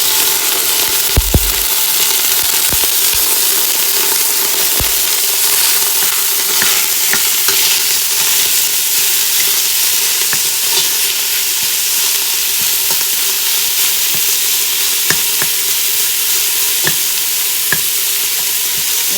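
About 1.5 pounds of ground beef browns in a pot with a steady, loud sizzle and frying crackle, broken by a few sharp stirring clicks and scrapes; no one speaks.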